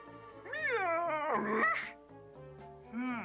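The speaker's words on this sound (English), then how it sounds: "Must be that pesky cat that likes to hang around here." A cat meows loudly in several drawn-out, wavering cries, with a short pause before a final rising meow.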